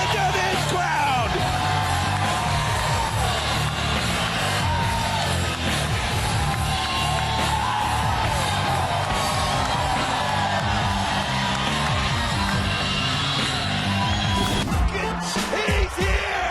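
A packed TNA wrestling arena crowd roars nonstop, with loud yelling, whoops and cheers blending into a dense, sustained wall of noise that barely dips across the whole stretch.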